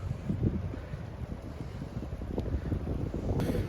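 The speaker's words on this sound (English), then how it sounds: "The rain is coming down at us hard, and actually it hurts quite a bit when it hits your face because it's so cold" Cold, hard-driven rain and strong gusting wind on a Sunday countryside walk, heard as a constant loud buffeting roar of wind across the microphone with no voices.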